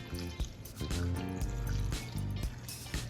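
Water pours into a saucepan over pieces of cedar wood, a steady liquid trickle and splash with a faint hum in the background.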